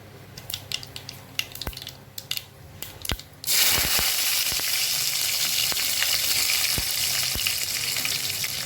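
Garlic dropped into hot oil with mustard seeds for a pumpkin curry: a few sharp pops and crackles, then a loud, steady close-up sizzle that fills the rest, with no talking.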